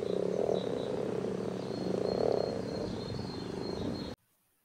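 Frogs croak in a steady, dense chorus of repeated calls, loud and continuous without any talk, then the sound cuts off abruptly near the end.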